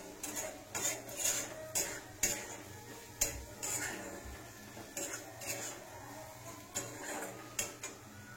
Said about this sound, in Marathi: मी तिखट आणि मीठ हे टाकणार आहे आणि व्यवस्थित असं हलवून घ्या